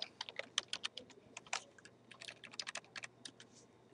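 Quick keystrokes on a computer keyboard while text is entered into a Word 2010 table, a fairly faint, irregular run of crisp clicks spread over four seconds with no talking.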